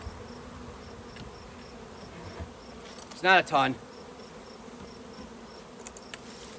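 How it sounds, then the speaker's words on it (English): Honeybees from a swarm trap buzz in a brief, loud burst close by, mid-clip, over a low steady background with faint scattered buzzing before and after. "I don't like how many bees are still in here"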